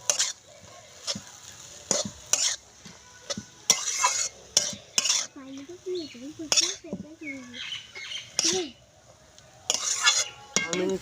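Egg chowmein being stirred and tossed with chowmein masala in a pan, giving irregular scraping and clattering strokes with a soft sizzle underneath, close by, while a faint voice hums or talks in the middle.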